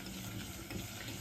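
Chicken rassa curry simmers in a pot while being stirred, giving a brief, soft, steady sizzling wash.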